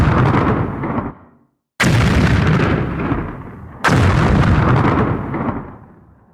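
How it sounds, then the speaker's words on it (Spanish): Three heavy video game missile explosions boom one after another as the missile hits a wall, each a sudden loud blast fading into a rumbling tail. "incluí una serie de randomizaciones para las explosiones cuando el misil impacta contra la pared"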